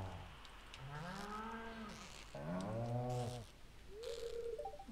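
Cows mooing in the farming game Stardew Valley, two drawn-out moos followed by a shorter lowing call, fairly quiet over light rain ambience with a brief chime at the end.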